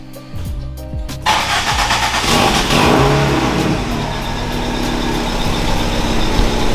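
A car with a cheap $200 aftermarket exhaust, heard as a starter cranking followed by the engine catching and settling into a loud, rough, throaty idle with some revving, close by.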